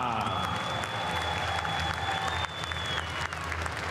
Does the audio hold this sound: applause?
yes